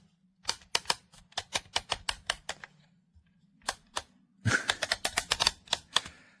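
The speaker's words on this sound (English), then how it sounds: "That's like the little teeth clicking into place." The plastic ratchet teeth of an 8Bitdo Mobile Gaming Clip for Xbox controllers snap into place as a run of sharp, close clicks, coming in quick bursts with short pauses between them over a faint low hum.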